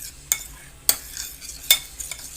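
A spoon stirs spices into yogurt for chicken biryani, giving three sharp clinks against the bowl amid soft scraping, close and fairly quiet with no voices.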